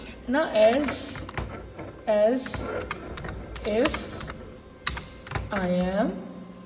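Clicks of fingers typing on a computer keyboard at a desk, light irregular taps running beneath a voice speaking.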